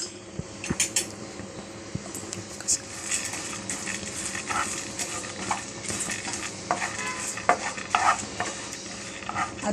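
Pumpkin seeds and magaj seeds roast in ghee in a pan with a soft crackling sizzle. A spoon stirs them, giving frequent light clinks and scrapes against the metal, close and busy throughout.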